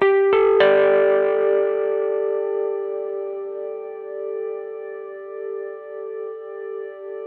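A guitar note struck twice through a Chase Bliss MOOD looping and ambient effects pedal, then a long smooth shimmering sustain with echo and swelling effects that slowly fades.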